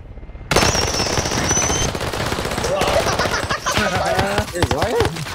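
Players in a video game fire guns at an opposing line, a dense loud burst of rapid automatic gunfire starting abruptly and continuing without pause, with a voice talking over the shooting.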